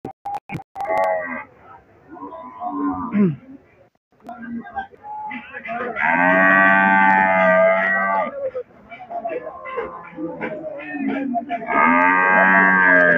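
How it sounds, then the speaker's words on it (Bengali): White Holstein cow at the Bamondi cattle market gives several long, loud moos amid close crowd chatter and people talking. "এটা সাদা হলিস্টার গরু"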